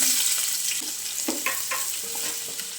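Whole cardamom, cloves, bay leaf, fennel seed, cashews and sliced onion frying in hot oil in a pan for tomato rice, with a steady close sizzle and a few scraping stirs.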